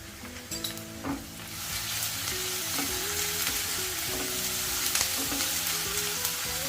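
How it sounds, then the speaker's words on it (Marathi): Chivai greens and onion sautéing in a pan with thecha chilli paste, a steady loud sizzle with scraping spatula stirs and clinks throughout, no voices. "छान परतून घेते"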